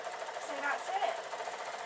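A sewing machine stitching suit trousers runs with an even, continuous whirring hum at moderate volume, with a faint voice briefly audible over it.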